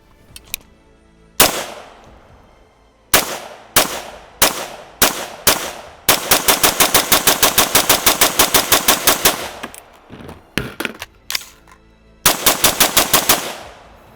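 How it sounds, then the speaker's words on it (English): ATI Omni Hybrid polymer AR rifle firing 5.56 rounds outdoors, loud sharp shots: several spaced single shots, then a rapid string of about twenty, followed by more scattered shots and a final quick burst. "Now I'm gonna shoot some more."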